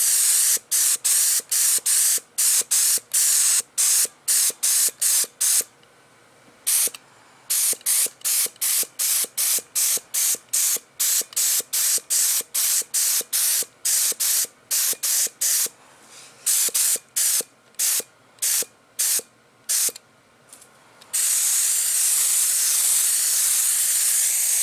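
Rapid bursts of a paint spray gun hissing air onto a new paint job, dozens of short blasts in quick succession, then one long continuous spray at the end.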